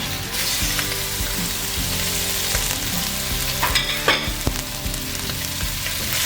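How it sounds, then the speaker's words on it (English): Minced beef and pork fry in olive oil in a pot, a steady close sizzle with stirring scrapes and a few sharper clatters of a utensil against the pot. "you're going to fry 400 grams of minced meat"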